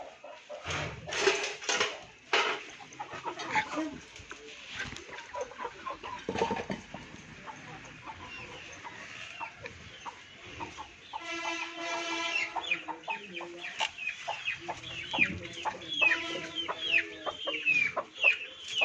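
Aseel chickens on a farm cluck and squawk in irregular bursts, several birds at close to moderate distance, with a few louder calls near the end.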